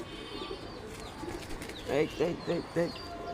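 A Giribaz flying pigeon gives a series of four or five soft, close coos over low room noise.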